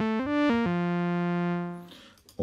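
A short default preset tone from the Bleass Alpha synthesizer with a few quick pitch steps settling into one sustained, buzzy note that fades out; no voices.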